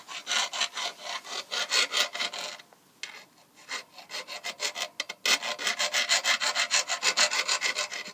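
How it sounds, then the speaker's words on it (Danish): Rhythmic rasping strokes of a file on a metal bicycle crank where the pedal was, close and loud, with a brief pause midway before the steady back-and-forth resumes. "Og så skal du file den her, hvor pedalen sad på"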